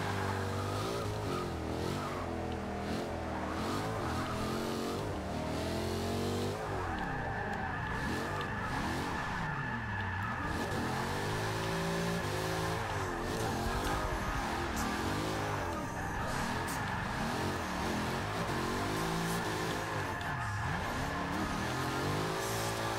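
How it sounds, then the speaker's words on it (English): A Nissan R34 drift car in a racing video game, its engine revving and wailing in continuous swooping pitch sweeps while tires skid and squeal, steady and loud for the whole stretch. "He was driving an R34"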